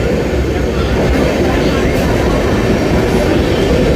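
A steady, loud roar of the CSMT–Dhule Express with its diesel locomotive running through a station in Mumbai, continuous and close, with no clear voices.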